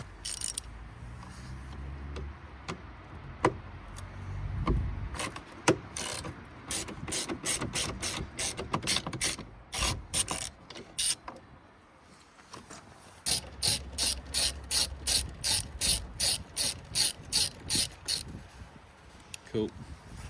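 A ratchet clicks rapidly in bursts while undoing Torx T30 screws on a mounting bracket of an Audi RS3 8P, close up, with pauses and clunks between runs of ticking.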